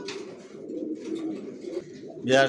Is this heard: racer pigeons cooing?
yes